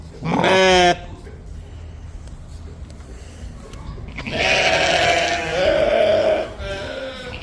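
Sheep on a farm field, hungry and fed grain daily, bleat loudly and close by: one sharp call first, then a longer, wavering chorus of overlapping bleats after a quiet stretch.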